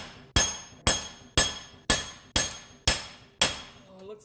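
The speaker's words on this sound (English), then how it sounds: "Hit it from the front, hit it from the back, from the side, whatever you gotta do, just smash it till it comes out of the hole." A hammer striking a seized wheel hub bearing on a 2011 Subaru Outback 2.5 to drive it from its bore: seven sharp, loud metallic bangs at an even rhythm, each ringing briefly before the next.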